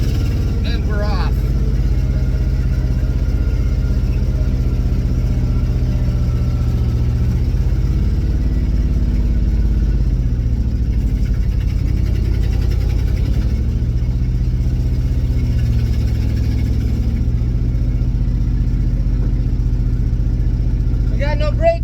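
An old 1965 International engine runs steadily at a low, rumbling idle near the listener, with people talking over it.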